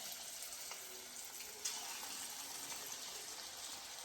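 Moong dal fritters frying in hot oil, a steady close sizzling hiss that stays constant throughout, with faint small pops and one brief clink.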